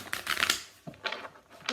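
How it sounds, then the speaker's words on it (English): Tarot cards being shuffled and drawn from the deck, heard as a few close, crisp papery riffling bursts separated by short pauses. "let's pull a few outcome cards"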